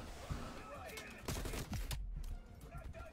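Bursts of gunfire in Call of Duty: Black Ops Cold War, rapid shots coming from behind, with a loud cluster in the middle of the clip and no talk.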